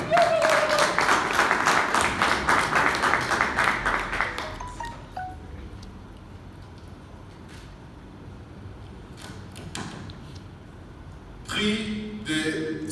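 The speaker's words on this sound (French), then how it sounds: "On peut l'applaudir, s'il vous plaît." Audience applause at a theatre award ceremony in French, full and close for a few seconds before fading into a quiet room, followed later by a few scattered knocks and a brief burst of noise.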